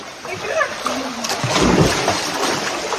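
Children jump into the water at Antong Falls in Pangasinan, Philippines, with a loud splash and sloshing, while voices call and talk nearby.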